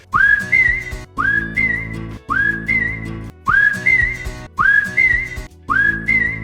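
Hardee's whistled audio logo: a short whistled melody rising then holding, repeated six times in a steady rhythm over a low backing, close and clear.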